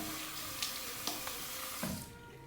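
Hot water running steadily from a tap before shaving, a constant splashing hiss with a few small clicks and knocks, easing off near the end.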